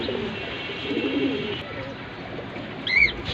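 Caged racing pigeons, a large light-coloured pair, coo in low, throaty murmurs nearby, ending with a brief higher chirp over faint background noise.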